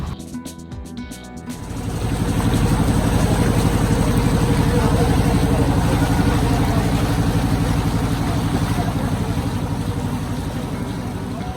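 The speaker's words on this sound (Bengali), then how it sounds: "ইঞ্জিনের ভটভট শব্দেই শুরু হলো আমাদের কাপ্তাই লেক ভ্রমণ" A boat engine on Kaptai Lake in Rangamati chugs steadily, building after the first couple of seconds into a loud, continuous rumbling throb close by.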